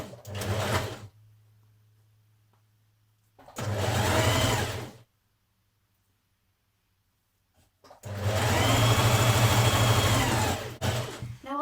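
Sewing machine stitching the side seams of a jersey top, running in three separate bursts of steady mechanical whirring, the last and longest loud and close, with a low hum in the pauses.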